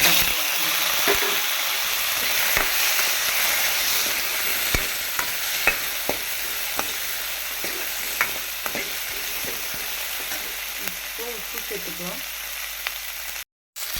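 Onions fry in a hot pan for a ridge gourd kootu, giving a steady loud sizzle with scraping knocks from stirring, close up, and a brief cut near the end.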